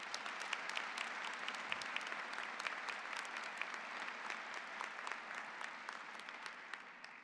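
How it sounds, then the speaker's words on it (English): An audience at a university College of Nursing pinning ceremony applauds steadily, dense crisp clapping sustained throughout at a moderate distance with no voices over it. "May we please give everyone a round of applause."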